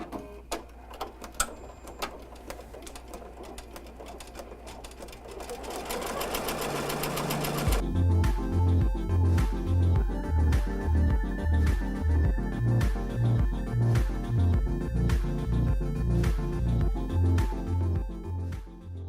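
An embroidery machine stitches a design onto a sun hat. Quiet clicks and setup noises come first, then a loud, rapid, steady mechanical chatter that pulses evenly as the needle runs. There is no speech.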